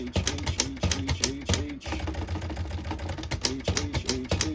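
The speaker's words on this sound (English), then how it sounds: "I think I was slamming the keys too hard on that" Rapid, loud, close-up keystrokes on a refurbished 1959 Everest K3 portable typewriter, with sharp clacks in quick uneven bursts and a brief pause midway.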